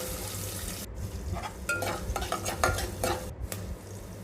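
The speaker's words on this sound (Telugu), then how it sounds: "ఫ్రై చేసుకోవాలి ఆనియన్స్ని అయితే." Onions and curry leaves fry in a pan, a close sizzle broken by scraping stirs and brief spatula clinks, with two sharp cut-outs where the hiss drops away.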